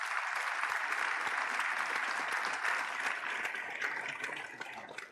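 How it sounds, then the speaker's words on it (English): A crowd at the opening ceremony of a new museum in Washington, DC applauds steadily, dense clapping heard from a slight distance that fades out at the close. "That's worth a round of applause right there."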